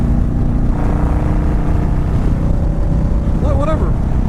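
A 2004 Yamaha V-Star 1100 (Dragstar) cruiser idles with a steady, deep, loud exhaust rumble close by, and a voice speaks briefly over it near the end.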